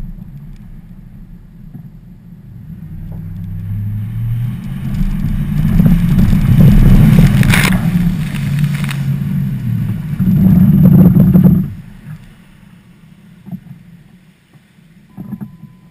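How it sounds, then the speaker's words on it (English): A pickup truck drives straight through the middle of a pond, a loud churning rumble of engine and splashing water that swells, holds, then cuts off abruptly as the truck stalls. "I ended up driving straight through the fucking pond, like right through the middle of it."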